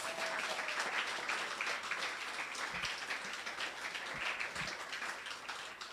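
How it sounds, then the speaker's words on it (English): Audience applause at a Caribbean prime ministers conference, a steady wash of clapping from a large crowd that holds at even loudness throughout. "give another round of applause"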